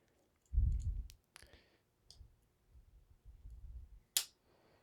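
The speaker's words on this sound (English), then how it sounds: "I just clipped a fingernail in the middle of my video." A fingernail is clipped with a Victorinox Pioneer X Swiss Army knife, giving several quiet, sharp clicks and snips spaced apart in a still room.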